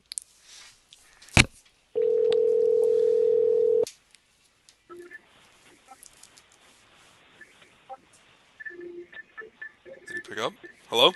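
A telephone call being placed: a sharp click, then a steady dial tone lasting about two seconds, followed by quiet line noise and faint intermittent tones under low background sounds.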